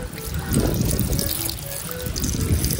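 Second pouring of coconut milk into a cooking pot, a steady close splashing and trickling of liquid that lasts a few seconds without speech.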